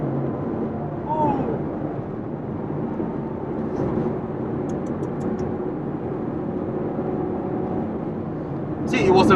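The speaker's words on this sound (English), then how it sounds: "Yeah, that's how a Ferrari sounds like." A Ferrari GTC4Lusso with a big front-mounted V12 drives along a road, giving a steady droning engine and road rumble heard from inside the cabin that swells slightly at the end.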